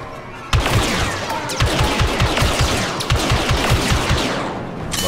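Blaster fire in the Star Wars Battlefront 2 single-player campaign, loud rapid bursts of repeated shots starting abruptly and continuing in quick rhythmic volleys for several seconds, up close and with no talk.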